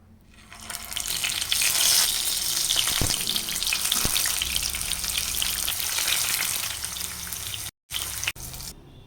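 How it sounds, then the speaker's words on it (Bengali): Stuffed pointed gourds frying in oil, a dense steady sizzle close by with a couple of sharp taps, cutting out briefly near the end before resuming. "এখন ভেজে নেব"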